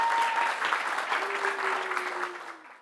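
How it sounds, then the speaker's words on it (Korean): A concert audience at Tone Studio applauds in a dense, sustained wave of clapping that fades toward the end, with a faint tone held underneath. "박수 한 번 더 해주세요."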